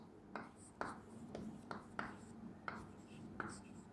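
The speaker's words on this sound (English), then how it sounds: "Let me write the definition." Chalk or marker strokes writing a definition on a classroom board, about seven brisk taps and scratches in an even rhythm, close, with faint breathy sound between them.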